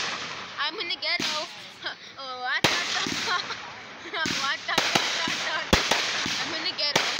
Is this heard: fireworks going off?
yes